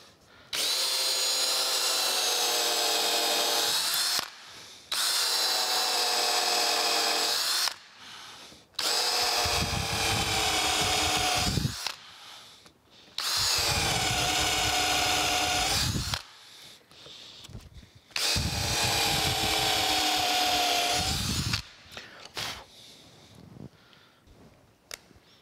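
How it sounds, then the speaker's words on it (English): A power drill bores pilot holes for screws into a wooden foundry pattern for a steam stoker engine valve, five loud whining bursts of several seconds each separated by short pauses, heard close up. "I'm going to drill a couple of pilot holes here for some screws to go in the very end of this"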